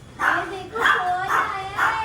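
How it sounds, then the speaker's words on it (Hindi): A dog barks and yips at people arriving to pick it up, several bright excited barks close by, overlapped by people talking and greeting it. "भौंक रहा हमें देख।"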